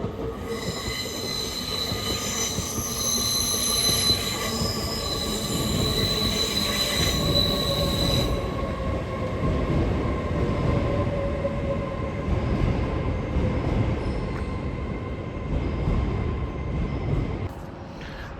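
A Northern train arrives at platform 4 of Darlington station, its wheels squealing in a long, high, shifting whine over a steady rumble of rolling cars, close and loud, fading slightly as it slows near the end.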